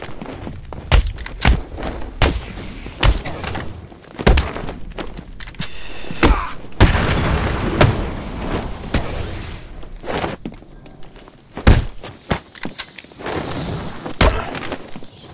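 Repeated sharp gunshots and heavy thuds in Batman: Arkham City, firing in irregular bursts over a rumbling background, loud and close, with a louder cluster of blasts near the middle.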